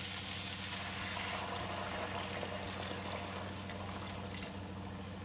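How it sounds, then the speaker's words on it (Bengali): Warm water poured into cooking masala for a fish curry makes a faint, continuous hiss and sizzle of liquid hitting the hot pan, steady throughout. "এখন আমি এর মধ্যে দিয়ে দেব উষ্ণ গরম জল।"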